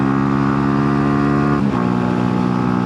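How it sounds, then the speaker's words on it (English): A 125cc motorcycle cruising on a summer ride sends out a loud, steady engine drone with a brief dip and shift in pitch partway through, close up and without speech. "And we ride bikes."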